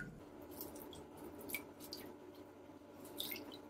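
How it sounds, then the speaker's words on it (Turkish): Half a lemon is squeezed by hand into a bowl of water mixed with flour, giving faint, scattered drips and soft wet squelches in a quiet room. "Yarım limon suyu sıkıyorum"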